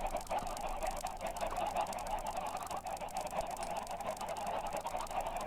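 A dense flock of Minecraft chickens crowded together, their clucking and honking calls merging into a steady, continuous chatter with no pauses.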